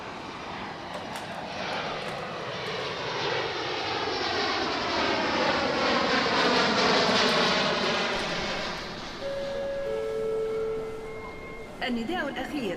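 A fixed-wing aircraft at Venizelos Airport roars past, its engine swelling to a loud peak and then fading, with a Doppler sweep. A public-address chime and announcement follow near the end.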